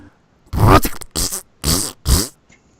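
A person mimics the blatting fart-can exhaust of a small black Honda Civic revving, voicing four loud, buzzy bursts separated by short gaps.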